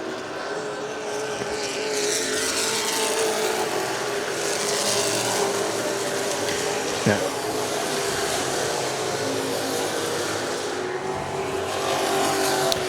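Race cars roar continuously around Virginia Motor Speedway during a 25-lap feature event in lap traffic, with a steady loud engine drone and a brief sharp sound midway. A voice speaks briefly over the noise.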